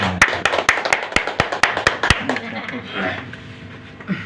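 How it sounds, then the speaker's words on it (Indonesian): About ten sharp, evenly spaced claps ring out, then fade into murmuring voices and background chatter. "Tepuk tangan dulu yang gemuruh."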